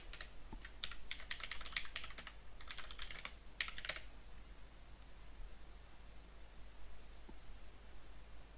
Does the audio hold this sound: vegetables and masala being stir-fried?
no